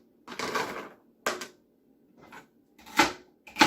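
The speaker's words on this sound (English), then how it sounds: "So you can cut up about 4 or 5 stalks of celery." Celery stalks chopped with a knife on a board, close and fairly quiet: several separate bursts of crisp cutting and crunching with short silences between them, and no voices.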